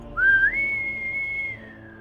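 A person whistles in imitation of a whistle heard at sea, a single clear tone that slides upward, holds steady for about a second, then tapers off, with no talking.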